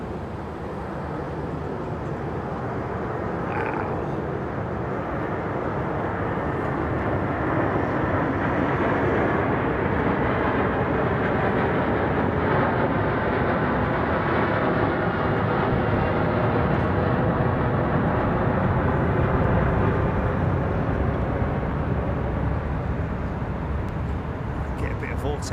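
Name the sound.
aircraft passing at London Heathrow Airport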